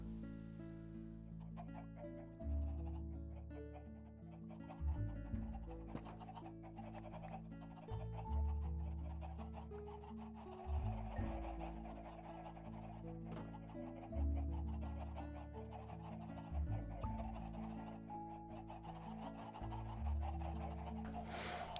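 Repeated clucking from chickens over a steady looping background of game music, with the clucks recurring every few seconds throughout.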